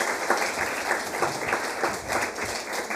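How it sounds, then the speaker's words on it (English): A conference audience applauds its panel with a steady, dense patter of many hands clapping throughout, evenly loud with no voices over it. "And a big round of applause for our panel."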